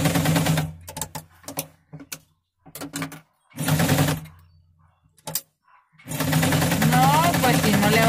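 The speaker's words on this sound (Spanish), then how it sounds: "No le hace que haga ruido, pero cose." A noisy home sewing machine stitching in loud, rapid mechanical bursts that start and stop, with short gaps and brief clicks between runs and a long steady run at the end, close by.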